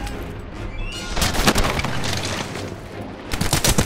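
Battle gunfire in Medal of Honor: Airborne during Operation Avalanche, 1943: dense, continuous rifle and machine-gun shots crackle close and loud, with heavy booms mixed in and no pause.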